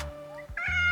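A house cat meows at close range during a home sewing session, giving a short rising then falling call lasting under a second, loud and clear with no talk over it.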